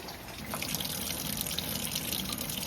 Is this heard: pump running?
yes